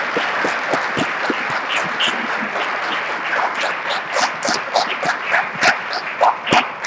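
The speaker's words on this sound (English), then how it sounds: "So please give them a huge round of applause." An audience at a hackathon closing ceremony applauds, a dense wash of clapping that stays steady and then grows more uneven toward the end.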